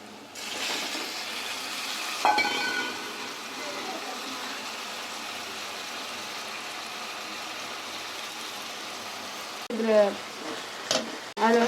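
Chopped tomatoes go into onions already sautéing in a pan for a soya kurma gravy, giving a steady close sizzle with a couple of sharp clatters, and a voice faintly present throughout.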